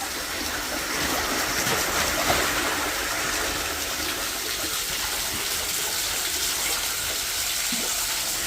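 Continuous spray of water from a shower splashing down into an arapaima fish tank, steady and fairly loud throughout with no voices.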